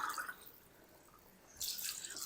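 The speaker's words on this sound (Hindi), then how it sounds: "तो 7 गिलास मैं इसके अंदर पानी शामिल करूँगा" Plain water poured from a glass into a cooking pot of yakhni pulao, a soft trickle and drip at first, then a brighter splashing pour near the end, close and fairly quiet with no talk.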